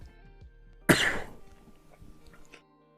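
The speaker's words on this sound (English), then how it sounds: "I've got a little bit of a cough here." A single sharp, explosive cough bursts out close to the microphone, then fades, with quiet background noise on either side.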